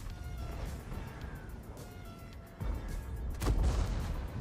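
A tank cannon fires a high-explosive shell in an online tank battle game, with a deep boom near the middle and a louder blast soon after over low rumbling engine noise.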